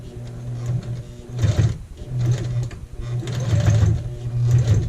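A sewing machine stitching forward and back over an apron corner, a close, steady mechanical whir pulsing in short repeated runs with slight pauses between.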